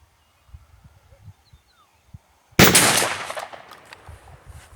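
A single rifle shot fired at a target 36.5 metres away, a D-Doxcarms gun: one sharp, loud crack that cuts through a quiet outdoor scene with faint rustling beforehand, then a trailing echo that decays slowly.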